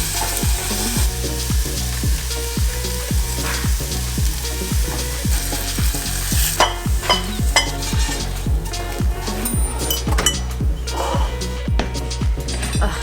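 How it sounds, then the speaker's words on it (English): Dinner frying in a pan at home, with continuous close sizzling and a spoon or spatula scraping and stirring in a regular rhythm, roughly twice a second, with occasional clinks of cookware. "so I'm gonna cook some dinner."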